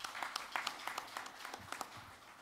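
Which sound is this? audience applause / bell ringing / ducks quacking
audience applause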